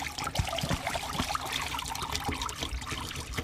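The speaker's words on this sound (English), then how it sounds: "Now dump the hot water out" Hot water glugs and trickles out of a plastic pop bottle, an irregular splashing pour with small gurgles, close but quiet.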